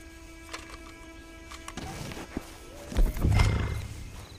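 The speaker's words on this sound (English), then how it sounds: "Get on the horse when you're ready." Horse in the Red Dead Online video game, a few hoof clops and snorts followed by a louder snort or whinny near the end, heard close with no talk.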